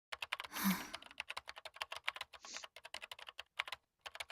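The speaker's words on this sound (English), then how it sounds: "sitting at her laptop typing at an incredible speed" Rapid, continuous clicking of a laptop keyboard being typed on at high speed in the Chaos;Child video game, dense keystrokes close and clear with a brief rustle early on.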